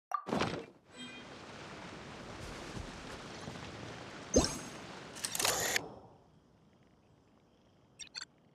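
In the game Genshin Impact, a camera shutter clicks and snaps as a picture is taken, short sharp bursts heard near the start and again midway, with faint game ambience in between and no voices.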